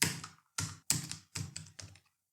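Five distinct, close, fairly loud keystroke thunks on a computer keyboard as code is typed, spaced unevenly with short gaps and no speech.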